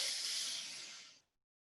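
A single long, airy breath drawn in during a yoga breathing exercise, a steady close hiss lasting just over a second before fading to silence.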